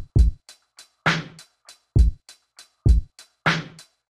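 A sparse hip-hop drum beat plays alone: punchy kicks alternate with bright snare hits and light ticks in a steady, clean loop.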